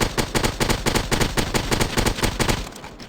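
Rapid automatic gunfire in the mobile shooter game Modern Gun, a fast, loud string of evenly spaced shots that stops abruptly near the end.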